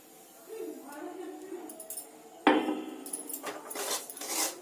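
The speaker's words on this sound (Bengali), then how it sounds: "সুজিটা দিয়ে অনবরত নাড়তে হবে" A utensil scrapes and clinks against a pan as semolina is stirred into ghee and gram flour over a low flame, with uneven metallic knocks and scrapes under a person talking.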